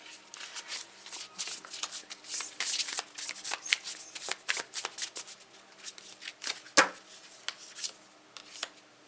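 A deck of tarot cards shuffled by hand, heard as a close run of crisp riffling and flicking bursts of varying loudness, with one sharper snap near the end and no talking.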